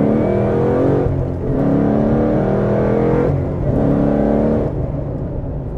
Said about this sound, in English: I'm gonna gun it in second.